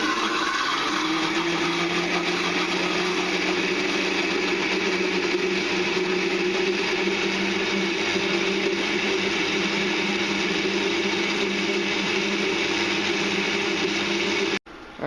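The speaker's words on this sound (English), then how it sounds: "So now we're going to turn on the blender, and we're just going to puree this." A blender purees nectarines and honey with a loud, steady motor whine and churning roar that holds for about fourteen seconds before cutting off abruptly, with no talking.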